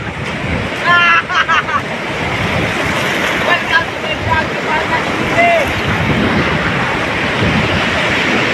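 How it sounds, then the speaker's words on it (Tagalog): Strong waves surging against the shore during Typhoon Odette, a continuous roar of surf with heavy wind buffeting the microphone and people talking over it. "So ayan po ang lakas po ng alon."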